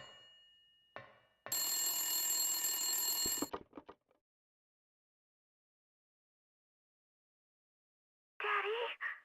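An old-style telephone bell rings loudly for about two seconds in a tense horror-game scene from Return to Silent Hill on PS1, followed by a few clicks and near silence, then a short burst of noise at the end.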